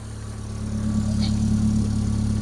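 A Rover 25 GTI engine idles steadily after a head gasket replacement, a close, even hum that swells slightly in level and then holds, with no talking.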